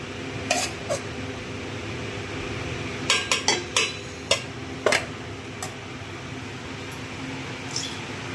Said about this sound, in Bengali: বন্ধুরা দেখো মিশাচ্ছি, এখন দমে দিয়ে দেবো।